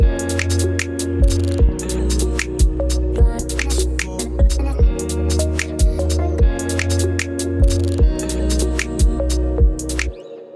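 Chillout electronic track run through an EQ that trims the lows and some highs: a steady beat with a pulsing bass line, crisp percussive hits and sustained synth layers, loud and continuous with no voices.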